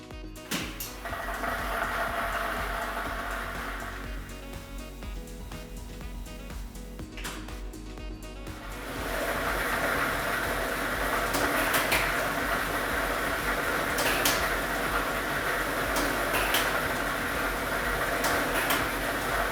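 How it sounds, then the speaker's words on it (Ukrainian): A lottery drawing machine switches on, its motor hum rising as numbered balls tumble and rattle continuously inside the drum at a televised Ukrainian state lottery draw, steady and moderately close. "І ми вмикаємо лототрон."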